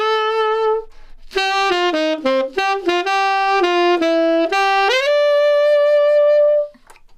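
A solo tenor saxophone plays a short melody, sustained notes and quick shorter ones, ending on a long held tone, clear and close.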